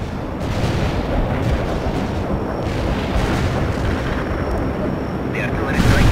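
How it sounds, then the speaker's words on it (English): Artillery strike explosions in the World in Conflict video game rumble as a dense, continuous roar of booms, loud and sustained for several seconds, with a sharper burst near the end. "The artillery strike was right on the board"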